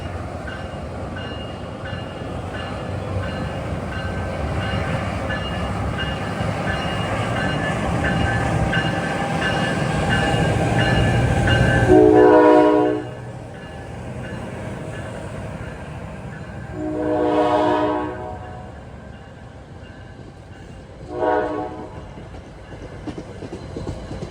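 NJT class 4500 diesel locomotive rumbles by with clattering railcars, then its K5LA horn sounds three times, a long loud blast, a shorter one and a brief final toot.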